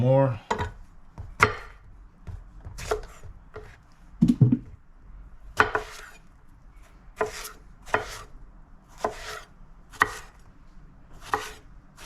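Knife chopping eggplant into pieces on a cutting board, a series of sharp, irregularly spaced close thuds with quiet gaps between them.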